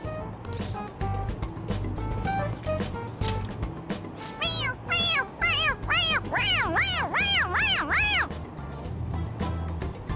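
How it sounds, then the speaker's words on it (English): A series of toy cat meows in the video game Persona 5 Royal repeats in quick succession, growing louder and more regular, over constant background rumble with faint voices earlier. "It meows when you press on its head."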